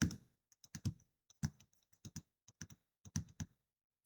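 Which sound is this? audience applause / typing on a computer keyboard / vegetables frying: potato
typing on a computer keyboard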